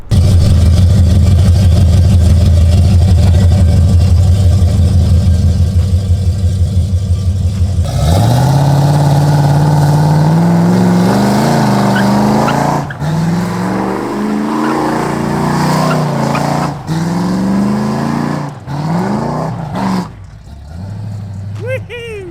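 A Chevy Camaro Z28 V8 idles with a loud, steady rumble, then revs and pulls away, rising through the gears as it accelerates hard, with brief pauses at each shift.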